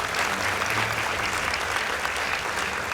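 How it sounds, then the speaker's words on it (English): An audience applauds a school team at a debate semi-final between Nyeri High School and Bahati Girls High School: a close, continuous wash of clapping at even loudness for three seconds. "Please give them a round of applause."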